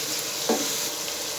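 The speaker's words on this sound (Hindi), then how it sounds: "अब इस मौके पर मैं इसके अंदर अदरक लहसुन का पेस्ट ऐड करूँगा 2 टेबल स्पून, और इसको मज़ीद थोड़ा सा भूनूंगा" Minced meat fries in a pan with ginger-garlic paste, giving a dense, steady hiss of oil broken by one brief louder spatter. The sound stays close, and no voice is heard.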